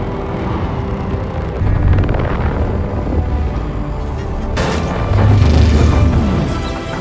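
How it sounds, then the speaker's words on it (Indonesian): A film explosion in Moonfall sets off a loud, deep rumbling blast with crashing debris, followed by a second heavy burst and sustained roar. "Ledakan membuat guncangan yang cukup besar dan hampir saja membunuh mereka semua."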